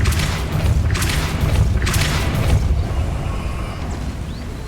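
A Depulso force spell lands in Hogwarts Legacy with two heavy, booming bursts close together, then settles into a low rumbling ambience.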